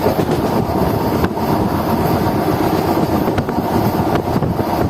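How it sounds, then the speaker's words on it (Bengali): A Rampurhat–Andal MEMU train running at high speed, a loud steady rumble and rush of wheels on rails with faint rhythmic clacks over the joints, close and continuous throughout. "খুব দ্রুত গতিতে আমাদের ট্রেন ছুটে পড়ে চলেছে"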